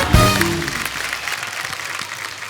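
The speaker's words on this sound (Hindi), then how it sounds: "एक बार अक्षय बाजी के लिए जोरदार तालियां" Studio audience applause for actor Akshay at a Kapil Sharma comedy show, a dense steady clatter of clapping that opens with a brief loud burst, then holds at a moderate level for a couple of seconds.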